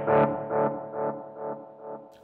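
An electric guitar through a Benson delay pedal plays one distorted note whose echoes repeat about five times in even rhythm, each one quieter and darker as they fade away.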